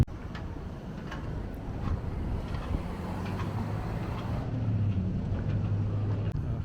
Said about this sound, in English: Ticket office with the wind blowing in the background